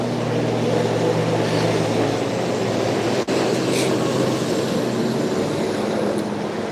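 A New York City subway train rumbles steadily in a played recording, a loud continuous drone of rolling wheels and carriage noise with a brief click near the middle.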